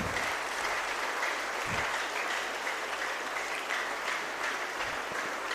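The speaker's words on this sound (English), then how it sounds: "let us appreciate God with our clap of hands" A church congregation claps during a Sunday service, many hands producing a dense, continuous patter at moderate loudness for several seconds, with a couple of low thuds and no voices on top.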